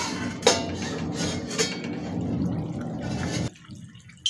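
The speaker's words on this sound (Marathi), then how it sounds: "आता याच्यावरचं झाकण काढूया" A metal lid comes off a cooking pot of stuffed eggplant (bharli vangi), with a few close metallic clinks over a soft simmering hiss that drops away abruptly near the end.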